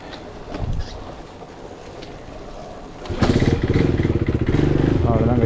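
A KTM Duke 390 motorcycle is pushed down a slope and bump-started; quiet rolling noise and a brief voice come first, then the single-cylinder engine catches and runs loudly with a rapid, steady thump.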